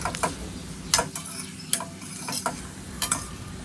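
Potato bhaji sautéing in oil over a low gas flame, with a gentle background sizzle broken by several crisp scrapes and clinks of a spoon stirring against the pan, spaced roughly every half second to second.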